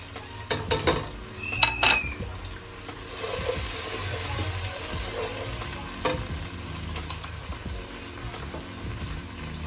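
Ginger paste and whole spices (bay leaf, cinnamon, cardamom, star anise) sautéed in a pan give a continuous sizzle, broken by several sharp clinks and scrapes of stirring near the start and a few later.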